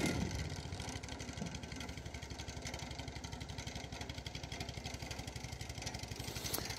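Small Vietnamese boat motor, a lawnmower-style engine driving a long-shaft propeller, chugging steadily with a rapid even pulse, moderately close and running alone without talk.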